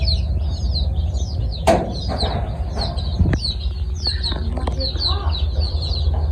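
Desi naked-neck chickens let outside for the first time cluck and chirp steadily outdoors, with a couple of sharp knocks and some soft wing rustling amid low background rumble; no one speaks.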